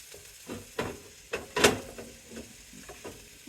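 Asparagus sizzling in a frying pan inside a camper van, a steady close sizzle broken by several sharp scrapes and taps of a spatula stirring it.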